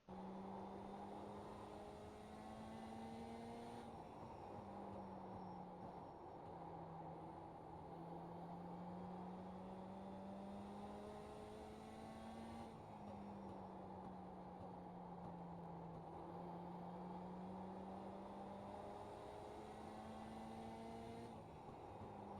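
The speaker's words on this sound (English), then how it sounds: "I'll give you guys a lap inside the car." A mini stock car laps the Langley oval in the iRacing sim, its engine droning steadily in-cockpit and rising and falling in pitch through the corners, loud and continuous with no talking over it.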